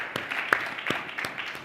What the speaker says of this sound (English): So give her a round of applause, everybody.